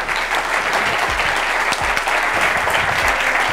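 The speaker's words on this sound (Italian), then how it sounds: "Fate un applauso a Giuliera" Thick, sustained applause fills the room from a large audience, with a few low thumps breaking through the steady wash of clapping.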